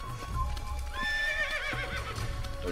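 A horse in an Assassin's Creed game neighs with a loud, wavering whinny over steady clip-clop hoofbeats and low ambient rumble.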